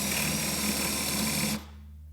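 Hand-held drill fitted with a Forstner bit boring into a piece of cherry wood, a steady close whirring drone that runs for about a second and a half, then cuts off abruptly, leaving a low hum.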